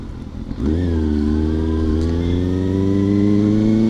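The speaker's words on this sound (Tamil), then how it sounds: "ஃபைவ் தௌசண்ட் ஆர்பிஎம்மே போதுமானதாக இருக்குங்க இந்த பைக் ஓட்டுறதுக்கு" A Kawasaki superbike ridden in city traffic revs up loudly and close, its engine note climbing after a brief quiet moment. It then holds a strong, steady, rising drone.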